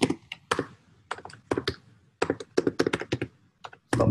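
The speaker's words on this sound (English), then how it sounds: "Stop typing, please." Fingers type on a computer keyboard during an online meeting, bursts of quick close clacks and taps separated by short pauses, loud and dry with no talking.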